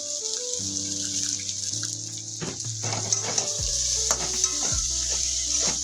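Brinjal stirred with onion and green chilli paste in a frying pan, with a spatula scraping and clinking over a steady oily sizzle, close and clear, with no talk.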